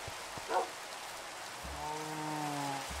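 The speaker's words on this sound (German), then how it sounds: "Und hier können wir uns dann erstmal den Regen abwarten." Steady rain falls in the Minecraft video game, a constant soft hiss throughout, with a short thump early on and sustained tonal game or music notes rising in the second half.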